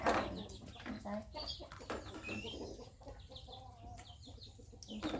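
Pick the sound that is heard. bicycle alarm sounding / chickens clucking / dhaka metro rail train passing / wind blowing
chickens clucking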